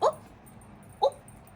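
A Halloween witch toy gives two short electronic dog-like barks, sharp and close, about a second apart, with near silence in between.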